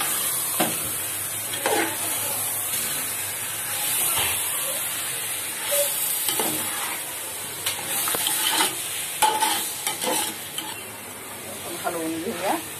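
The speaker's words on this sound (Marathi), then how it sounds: "आपण हलवून घेऊया आणि दोन चमचे बिर्याणी मसाला घालूया." Chicken biryani with biryani masala being stirred in a pan, a steady high hiss of frying under repeated spoon scrapes and clatters, with some talk in the background.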